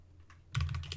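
Fingers type on a computer keyboard, a few soft taps followed by a louder, rapid run of close clicking keystrokes with no voice over them.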